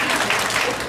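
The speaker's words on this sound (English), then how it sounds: "Yes, you can clap for this." Brief, steady applause from an audience at a Mary Kay product presentation, a continuous wash of clapping with no pauses.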